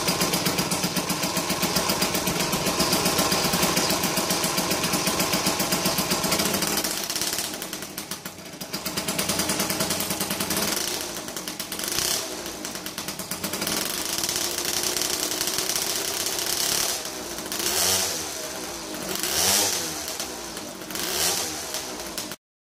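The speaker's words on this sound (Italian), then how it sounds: "adesso vi faccio sentire qualche sgasata così da bello imbrattato" A small 70cc two-stroke Piaggio Zip SP scooter engine buzzes loudly, then is blipped in repeated sharp revs rising and falling, close by with no talking.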